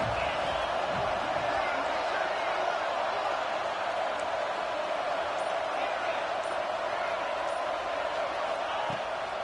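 Auburn football crowd in a stadium roars steadily as a broad, sustained wash of cheering on a late third down, with no break throughout.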